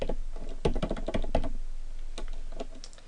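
Quick, close clatter of a computer keyboard as HTML form code is typed, a dense run of key taps with short uneven gaps, then thinning out toward the end.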